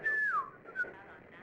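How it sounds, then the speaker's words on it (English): Loud, close whistling from a man in the Max Payne video game: a single sustained tone that slides downward, then a brief second note, with faint room noise underneath. "A man's loud whistling was blowing my eardrums out."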